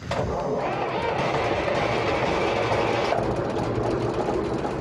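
A fishing boat engine runs with a loud, continuous mechanical clatter and drone, a dense rhythmic rattle that stays steady throughout with no voices over it.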